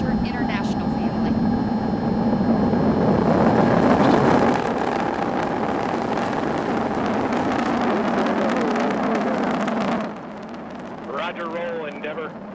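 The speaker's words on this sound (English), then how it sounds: "Booster ignition. And liftoff of Space Shuttle Endeavour" Space Shuttle Endeavour's boosters ignite for liftoff in a massive, sustained, crackling roar that fills everything. It eases off toward the end, where a voice speaks over the fading rumble.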